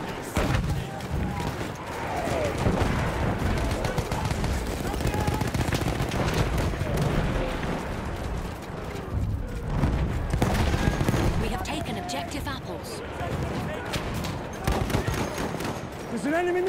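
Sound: machine gun fire in the video game Battlefield 1

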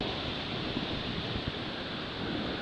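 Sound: strong wind gusts

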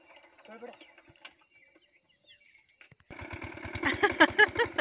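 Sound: motor pump pumping water out of a pond

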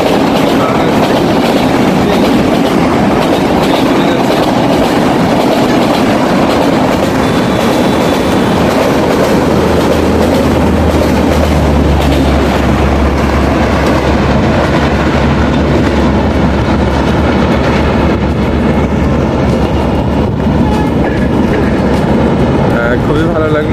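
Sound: train passing under an overbridge

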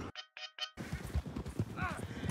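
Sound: horses galloping and neighing in a video game

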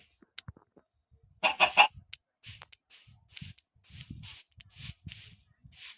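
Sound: chickens clucking in a video game

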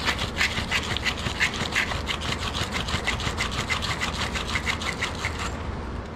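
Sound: sanding down pipe connections on mini split heat pump

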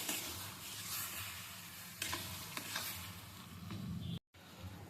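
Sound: stirring milk into chana dal in a pot

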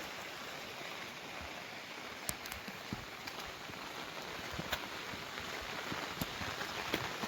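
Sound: rain falling

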